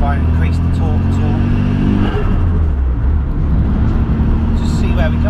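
Renault Twingo GT with a swapped hybrid turbo engine pulls hard under acceleration, a loud, steady engine drone and rumble rising in pitch over the first couple of seconds, with someone talking over it throughout.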